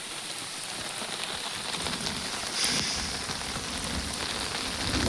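Steady rain falls outdoors in a jungle village, a dense, even hiss of drops striking surfaces with no voices over it.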